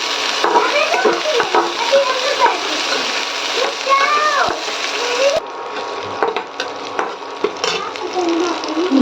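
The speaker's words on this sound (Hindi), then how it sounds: "अब मैं छौंक रही यहाँ पे दाल" Cumin, asafoetida, onion, garlic and chilli sizzling and crackling in hot oil while dal is tempered in a home kitchen, with loud frying and stirring throughout and a voice talking over it.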